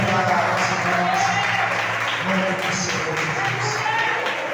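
A church congregation applauds during a worship service, with continuous clapping mixed with voices and a murmur of talk.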